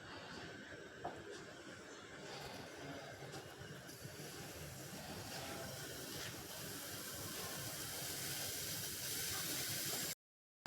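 Pancake batter cooks in a pan with a faint, steady sizzling hiss that grows slightly louder before stopping suddenly.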